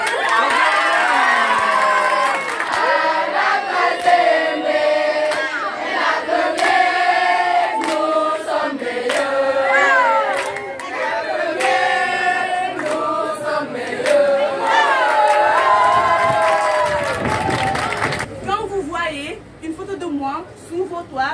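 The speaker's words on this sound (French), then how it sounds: "Alors, mettez sous vos acclamations." A school debate crowd of students cheers and whoops for a speaker, loud sustained shouting and acclaim with voices rising and falling, a brief lull near the end before noisy chatter resumes.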